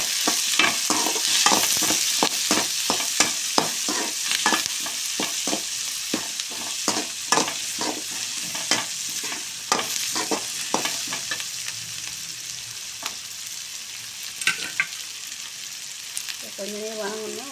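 Turkey berries with a little turmeric sauté in a hot pan, a steady sizzle broken by repeated scraping stirs of a spoon, loud and close throughout.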